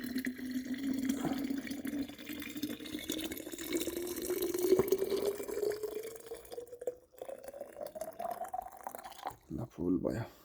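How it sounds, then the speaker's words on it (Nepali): Water pours steadily into a thermos at close range, the filling tone climbing in pitch for about nine seconds as the vessel fills, then giving way to a few quieter splashes and handling noises. "अब यो खाली पानी चाहिँ यहाँ हाल्नुपर्छ"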